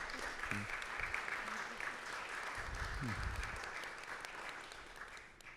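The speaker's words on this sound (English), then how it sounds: "we should just applaud very sincerely" An audience at a cultural presentation applauds sincerely, a soft, steady patter of clapping heard from a distance, with a few low voice-like murmurs beneath it.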